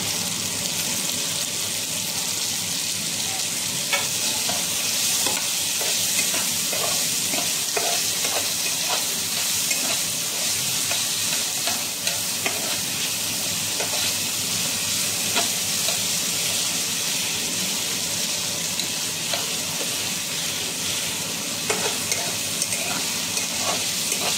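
Chopped tomatoes fry with onions in a pan for a ridge gourd and chana dal bhaji, producing a loud, unbroken sizzle with faint stirring scrapes that lasts throughout.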